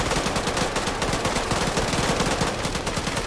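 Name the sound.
PKM machine guns firing at a cache, from the video game Arma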